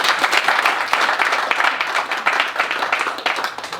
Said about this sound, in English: Please, let's welcome Pa with a hand of applause.